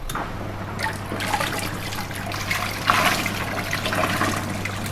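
A budget Mito washing machine starts its wash cycle, water rushing and trickling steadily into the drum with a low mechanical hum, close and fairly loud, no voices.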